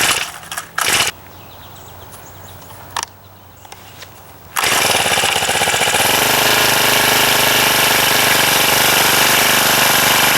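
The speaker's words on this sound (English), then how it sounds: "see if I can loosen it up real quick with my little Honda GX25" A small Honda GX25 four-stroke mini tiller loosening soil in an onion bed: a few clunks and a brief start attempt, then the engine catches and roars loud and close, settling into a steady high buzzing run.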